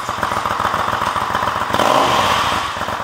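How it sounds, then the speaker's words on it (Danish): A custom-built classic Triumph Scrambler motorcycle at a motorcycle festival held at Horsens State Prison runs loud and close with a steady throbbing idle that swells briefly as it is revved. "jeg taget min egen specielt bygget Triumph Scrambler med, som jo er en klassisk motorcykel"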